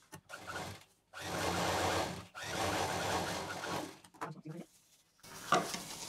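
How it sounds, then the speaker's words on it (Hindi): Sewing machine running in two long bursts of steady stitching, with brief pauses between, as a quilted 14-inch piece is sewn for a bangle box; close and fairly loud, with a softer restart near the end. "अब इसको हम सिल लेते हैं।"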